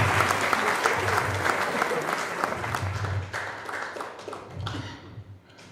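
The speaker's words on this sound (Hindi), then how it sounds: "जो एक मिनट ताली बजा दो।" Audience clapping at a stand-up comedy show, a full crowd applauding in a dense sustained wash with some louder swells, then thinning and fading toward the end while a murmur of voices runs underneath.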